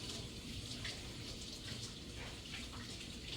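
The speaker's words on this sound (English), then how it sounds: "I'm gonna wash my hands" Running tap water pours steadily over hands being washed at a kitchen sink, a soft continuous splash with no talking.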